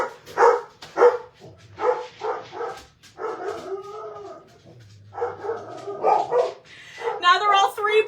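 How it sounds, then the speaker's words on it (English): Three house dogs bark in short bursts and yips, close by, interleaved with a person talking over them. "Now they're all three barking."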